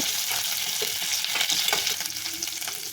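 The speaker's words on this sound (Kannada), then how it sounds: "ಇದಕ್ಕೆ ಸ್ವಲ್ಪ ಕರಿಬೇವು ಹಾಕಿ ಎರಡೂ ಚೆನ್ನಾಗಿ ಫ್ರೈ ಮಾಡಿ" Curry leaves and popping mustard seeds frying in hot oil for a ridge gourd palya: dense, loud crackling sizzle with spattering pops and a few stirring scrapes, close up and without voices.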